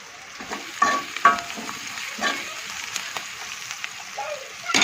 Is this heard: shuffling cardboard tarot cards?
no